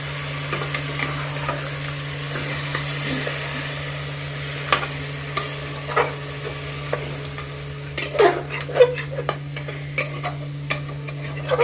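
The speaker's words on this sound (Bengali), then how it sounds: "একটু কষিয়ে নেব।" Mixed vegetables and spices sauté in a pan, cooked with little oil and a splash of water, while a utensil scrapes and clicks in irregular bursts over a faint sizzle and a low steady hum.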